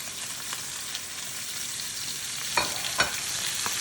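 Oxtail pieces browning in a hot, uncrowded pan for a stew give a steady close sizzle with a few sharper pops and spits near the end.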